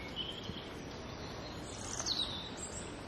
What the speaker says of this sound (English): this phenomenal event every morning when all these birds wake up